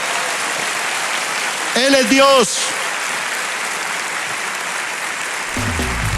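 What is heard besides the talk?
church congregation applauding loudly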